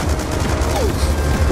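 Dense, continuous gunfire from the Call of Duty Black Ops 2 video game, steady and loud throughout with bursts blending into a constant barrage and faint tonal game sounds mixed in.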